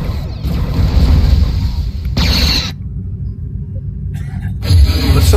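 Quantum torpedoes firing in a starship video game: loud, rumbling booming blasts with crackling bursts, broken by a brief quieter gap before another heavy boom.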